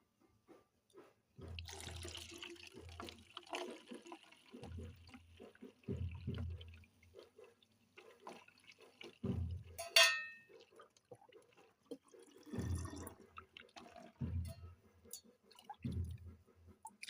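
Liquid splashes and trickles in short bursts as a homemade mixture is poured into a bottle, several separate pours with quiet gaps between them, close and fairly soft.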